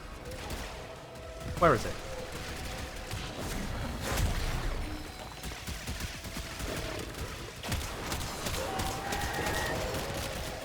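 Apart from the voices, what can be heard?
enemy gunfire in the video game Warframe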